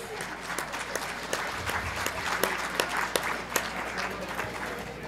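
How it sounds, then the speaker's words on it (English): Forum attendees at the Victoria Inn give a round of applause for hotel staff, a steady, moderately distant patter of clapping with a few sharp individual claps standing out, lasting about five seconds. "Can I get a round of applause for the Victoria Inn and all the great staff,"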